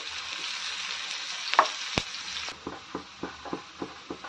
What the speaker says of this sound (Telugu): ఈ ఉల్లిపాయలు మొత్తము బంగారం రంగులోకి మారేంత వరకు బాగా నూనెలో వేయించుకోవాలండి